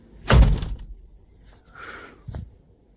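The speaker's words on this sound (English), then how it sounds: "I'm going to shut the door" A door being shut indoors: a single loud, solid thud near the start, followed by faint rustling, a brief hiss and a soft low knock.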